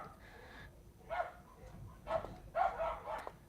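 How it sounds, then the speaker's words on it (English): Several dogs barking indoors, a few separate bursts of barks spaced about a second apart, moderately close but not very loud, with no talking over them. "Oh, of course the dogs start barking."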